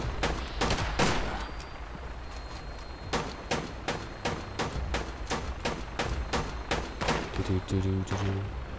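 Gunfire in the video game Fallout 76 rings out as a series of loud, sharp shots at irregular intervals, close and punchy, with a lower mechanical hum near the end.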